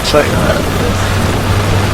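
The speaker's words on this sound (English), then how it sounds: "You can take a look outside in the rain." Rain in Euro Truck Simulator 2 while driving a truck, a steady soft wash of rainfall under the engine's low hum, with a voice briefly speaking at the start.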